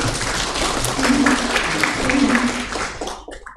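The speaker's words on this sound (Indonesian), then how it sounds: "Kasih tepuk tangan dulu" Audience in a work-and-faith seminar session in Surabaya applauding, a dense burst of clapping with some voices mixed in, fading out at the end.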